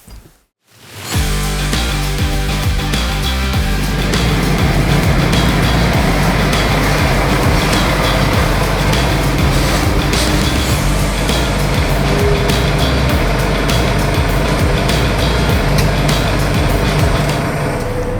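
A Valtra tractor drives out toward the field, its engine droning loud and steady after a brief quiet start, with cab rattles and road rumble throughout.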